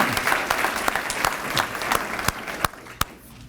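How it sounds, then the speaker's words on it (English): An audience at a school awards ceremony breaks into loud, steady applause, dense clapping filling the room with a few sharp individual claps standing out as it tapers. "A big round of applause for Jennifer."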